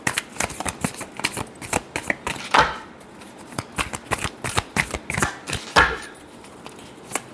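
Tarot cards being shuffled by hand in a rapid series of crisp riffling slaps and flicks, close and steady with brief louder riffles, with no talking.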